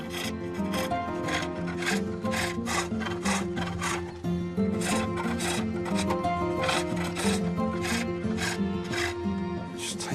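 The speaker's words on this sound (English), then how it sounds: "turning the cylinder into a pulley by cutting a groove in its rim" Hand saw or rasp rhythmically cutting a groove into the rim of a wooden cylinder to make a pulley, with fast, steady back-and-forth strokes close up and no talking.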